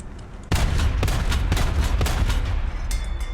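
Gunfire in a war video game: a rapid run of loud, close shots and bursts following one another at a quick, uneven pace, with the battle din continuing between them.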